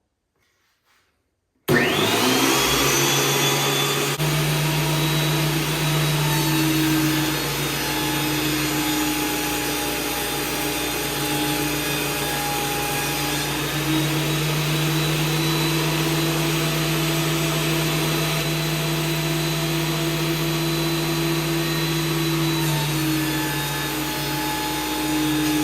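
A WEN 13-inch PL1326 benchtop planer with a spiral cutterhead starts up after a moment of silence and runs loud and steady, a constant close motor whine and hum with no talk.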